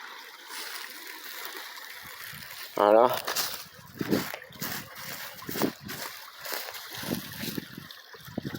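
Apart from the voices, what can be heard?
small forest stream flowing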